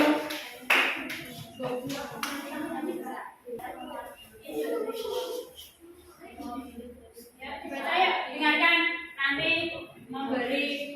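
A classroom of students in an Indonesian school lesson claps for a student group. A burst of scattered applause rises near the start and again toward the end, with a teacher talking between the bursts.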